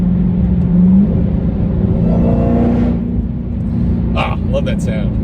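A 2021 Dodge Hellcat V8 with a Borla exhaust rumbles deeply from inside the car while driving, rising briefly in a rev, with someone talking over the engine drone.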